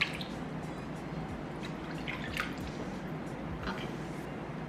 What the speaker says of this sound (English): I wet my face.